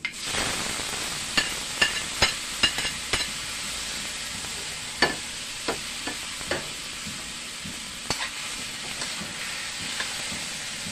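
Tomatoes frying in a home pan, giving a steady close sizzle broken by a string of sharp clicks and scrapes as they are stirred, with no talking over it.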